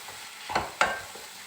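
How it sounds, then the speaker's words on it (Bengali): Squash curry stirred in a pan just after the lid is lifted: two quick scraping strokes of a spatula against the pan over a faint, low sizzle, brief and fairly close. "নেড়ে দেব।"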